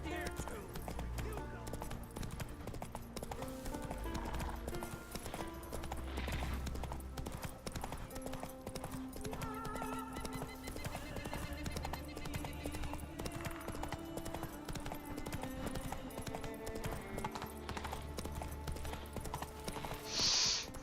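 Horse hooves in The Witcher 3 clop in an even rhythm beneath background music and people talking, with the hoofbeats fairly faint but continuous throughout.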